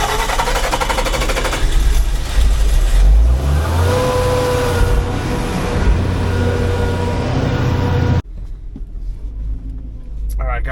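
A generator starts up after a major service, its engine catching with a rough rumble and settling into a loud, steady running drone before cutting off abruptly near the end, with some talk faintly beneath.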